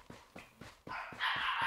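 A dog barking in the video game PUBG Lite, several short, evenly spaced barks at moderate distance, with a rising hiss of game noise behind them toward the end.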